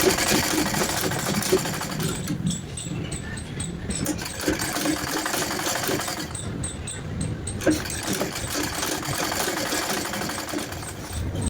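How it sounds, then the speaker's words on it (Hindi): A sewing machine runs steadily, stitching a second reinforcing seam along a folded blouse strip, with brief slowdowns as the fabric is repositioned; no one talks. "इसको भी हम पक्का करने के लिए दूसरी सिलाई लगाते हैं।"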